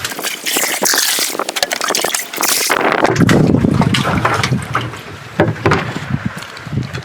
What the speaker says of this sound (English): Fill them up with the well water.